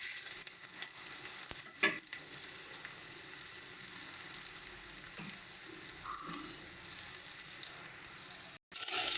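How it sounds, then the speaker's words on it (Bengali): Onions fry gently in a hot pan with a steady, close sizzle that holds through the whole stretch, broken by a few faint clicks and one brief knock near the end. "পেঁয়াজটা দিয়ে এটাকে হালকা হালকা করে ভেজে দেবো পেঁয়াজটাকে।"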